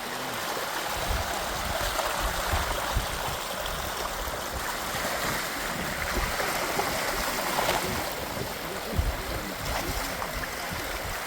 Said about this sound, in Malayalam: ഈ പാടങ്ങളിൽ മുഴുവൻ വെള്ളം കൃത്യമായിട്ട് എത്തും